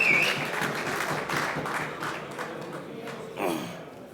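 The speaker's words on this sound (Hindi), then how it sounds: "आप सबकी भरपूर तालियाँ।" Crowd applause at a mushaira, an Urdu poetry gathering, as a poet is called to the stage: a dense, steady wash of many hands clapping at moderate distance for about four seconds, with a brief swell near the end and no talk.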